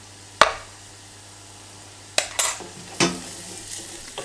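Spices cooking in a pan: a faint sizzle underneath three sharp metallic clinks of a utensil against the pan, spaced unevenly, close by and without talk.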